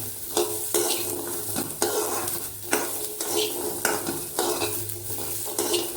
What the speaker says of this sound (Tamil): வெங்காயமும் வெள்ளைப்பூடையும் ஒன்றா போட்டுடுறேன். லைட்டாக கொஞ்சம் கிளறி விடுவோம்